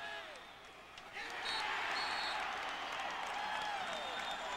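Stadium crowd at a 1998 college football game between Boise State and Idaho swells into a loud, sustained roar partway through, a broad wash of cheering that holds steady to the end.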